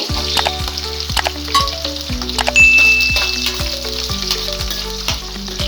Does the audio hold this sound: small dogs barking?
no